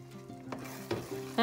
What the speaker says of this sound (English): After adding vinegar, stir it well and cook for about 2 minutes